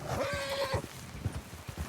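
A horse named Spence in a video game gives a short whinny near the start, and soft hoof clip-clops follow at an uneven pace, fairly close and moderately loud, with no voices over them.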